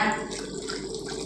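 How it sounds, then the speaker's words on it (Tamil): About a quarter cup of water splashes briefly into a mixer-grinder jar in a quick, close pour. "அது கூடவே 1/4 கப்பு தண்ணி சேர்த்து கொடுத்துக்கோங்க"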